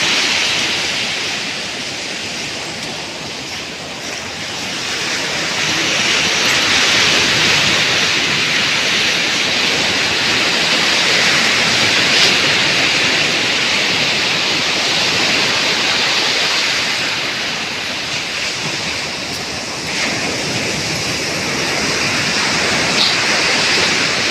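Sea waves during a morning walk by the shore make a continuous broad roar of surf that swells and eases gently, with no voices over it.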